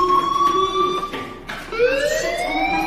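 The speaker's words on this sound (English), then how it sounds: "Hey, do you hear that fire alarm?" Electronic fire alarm wailing in the video game Life Is Strange, a loud continuous tone that dips briefly then sweeps back up, sounding alone with no talk.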